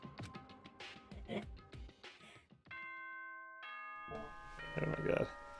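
A doorbell-like ding-dong announcement chime from the video game Danganronpa 2 rings out as sustained bright tones, coming after a stretch of talk and followed by a voice.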